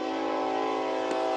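A train horn blares from nearby tracks during a Little League seniors state championship baseball game, one steady, sustained, loud chord-like blast lasting the whole moment, heard alone without voices.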